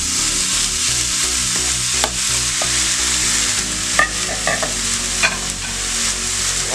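Nopales and browned onion with chiles frying in a pan for nopales en su jugo, a steady close sizzle with scraping stirring sounds and a few light clinks throughout.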